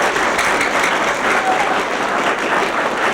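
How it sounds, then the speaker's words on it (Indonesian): An audience applauds loudly and steadily throughout, a dense continuous wash of clapping with no gaps, the crowd close and full. "Tepuk tangan."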